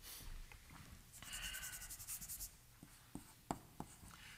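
Chalk or marker scratching across a board during a superstring theory physics lecture, a steady run of quiet rubbing strokes followed by a few sharp taps, close and alone without speech.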